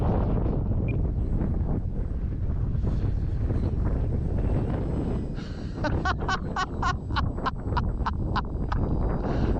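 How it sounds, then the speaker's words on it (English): Strong wind buffets the microphone outdoors while an RC warbird model plane flies overhead, with a steady roar and a series of short rhythmic bursts toward the end, no clear talking. "Oh, come on, wind."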